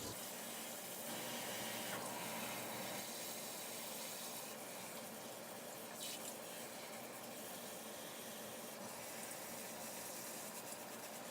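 Water pours from a tap to fill orchid pots to the brim as a steady, hissing splash that runs unbroken for about eleven seconds, soft and close, with no talking.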